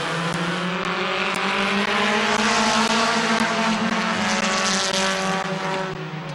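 Race cars roaring together out of a green-flag restart at Midvale Speedway, a loud, dense, continuous engine roar with rising pitch as they accelerate, slowly fading slightly at the end.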